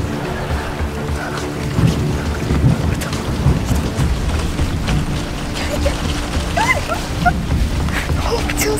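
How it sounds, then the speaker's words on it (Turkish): Heavy rain pours down in a dense, steady hiss, with faint murmuring voices and occasional clatter underneath. "Şimdi çok yağıyor bir de ya"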